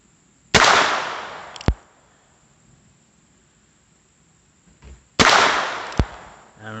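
Heritage Barkeep rifle fired at a target, two loud close cracks a few seconds apart, each trailing into a decaying rumble, with faint handling clicks between them and no talking.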